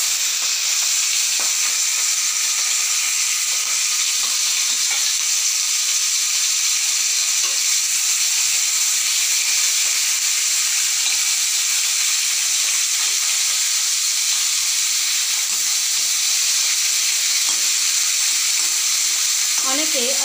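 Pomfret fish fry in hot oil, producing a dense, continuous, loud sizzle and hiss that stays steady without a break.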